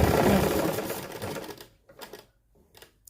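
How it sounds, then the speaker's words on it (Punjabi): A sewing machine stitches a double seam on fabric, whirring fast and loud for about a second and a half, then slowing into a few short bursts separated by silences, with no talk. "ਡਬਲ ਸਲਾਈ ਕਰ ਲੈਣੀ ਆ ਇਸ ਤਰ੍ਹਾਂ"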